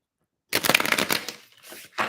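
A stiff, fresh deck of tarot cards is shuffled by hand in a quick riffling burst lasting about a second, followed by a few softer card rustles and taps.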